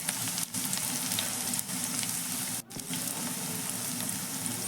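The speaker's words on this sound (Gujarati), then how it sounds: "એક પેનની અંદર આપણે લીલું લસણ એડ કરીશું" Green garlic sizzles in a pan as a tempering for a spinach curry, a loud, steady, close frying hiss that runs throughout with a few brief dips.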